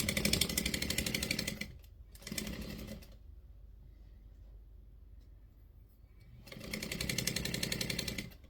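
A sewing machine stitches quilt pieces for a diamond chain quilt, its fast close motor chatter running in two bursts at the start and a third near the end, with quiet gaps between.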